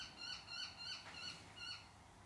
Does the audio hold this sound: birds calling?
yes